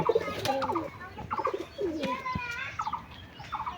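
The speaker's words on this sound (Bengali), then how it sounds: "সব পায়রা ছিটকে ছিটকে উঠছে অনেক দিন পরে উড়াচ্ছি বলে" Pigeons flying from a loft coo repeatedly at close range in throaty, pulsing bursts, with light chirps and occasional wing flaps in between.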